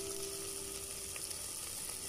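Ground spices frying in a pan for a beef curry, with dried chili, turmeric, coriander, cumin and garam masala. A steady, soft sizzle continues throughout with faint stirring, and no talking.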